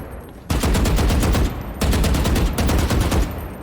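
Rapid automatic gunfire in Call of Duty, loud and close, in two sustained bursts of evenly spaced shots with a short gap between, no talking.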